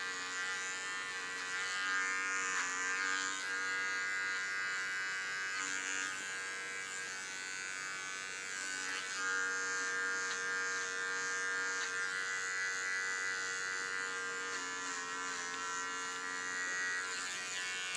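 Electric hair clippers buzz steadily for the whole stretch while cutting an undercut, a close, continuous motor hum with slight shifts in pitch as the blades move through hair, no talking.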